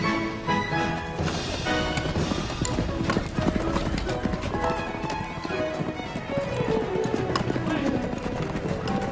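Rapid hoofbeats drum in a rolling gallop amid crashing clatter and a brief whinny, with a voice talking over the busy scene.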